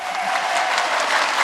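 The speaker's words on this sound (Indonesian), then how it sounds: "Tepuk tangan dong" A burst of dense, close applause from the audience at an Islamic religious lecture, loud and continuous for a moment with a murmur of the crowd.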